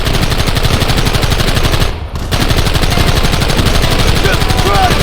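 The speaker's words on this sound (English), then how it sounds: "Targets on the horizon! Fire at will!" Rapid automatic gunfire in the Red Dead Redemption video game, a loud, dense stream of shots that breaks off briefly near two seconds and then resumes, continuing steadily to the end.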